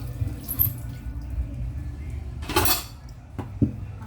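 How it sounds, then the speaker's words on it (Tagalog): Bitter gourd (ampalaya) being rinsed in a kitchen basin, with splashing water, a few sharp clinks of utensils and dishes, and soft movement in between. "Hugasan muna natin ang ating ampalaya."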